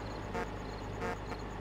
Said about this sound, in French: Klaxon hein.